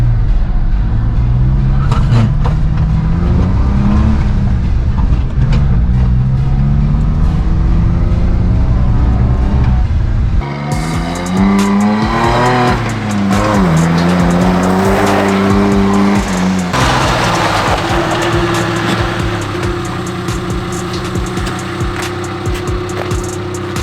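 A mini truck engine fitted with a new carburetor, running warm and slightly smoky, idles loud and close, then revs up in rising and falling pulls before settling to a higher steady drone, with no talking.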